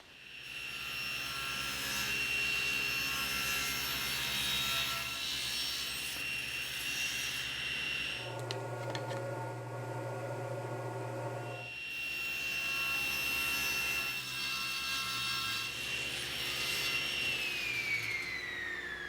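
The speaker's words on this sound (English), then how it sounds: "I'm using a tapering jig to add a taper to the outside of the legs." A table saw fitted with a tapering jig cuts tapers on wooden outdoor bench legs, a loud steady close whine with a lower-pitched stretch mid-cut as the blade loads.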